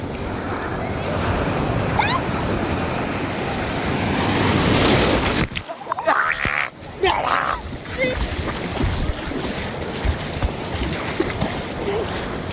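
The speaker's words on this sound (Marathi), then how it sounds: "मित्रांनो लाट आली." Sea waves breaking on a beach at Mangaon: a loud, rushing surf roar with gusty wind buffeting the microphone, one wave crashing sharply near the middle, then foamy wash and splashes as voices talk nearby.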